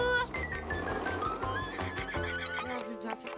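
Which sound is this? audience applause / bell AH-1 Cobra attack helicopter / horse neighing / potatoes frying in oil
horse neighing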